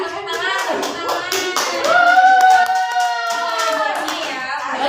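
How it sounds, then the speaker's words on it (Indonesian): Children in a third-grade classroom clap during a micro-teaching lesson, with a burst of quick hand claps at the start and a voice singing or calling over them in the middle. "Tepuk tangan, tepuk tangan."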